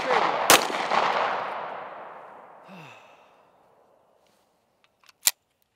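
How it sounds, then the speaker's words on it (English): CZ Shadow 2 pistol fired outdoors: one loud sharp shot with a long fading echo, then a second crisp shot several seconds later after quiet. "A lot of recoil in that pistol."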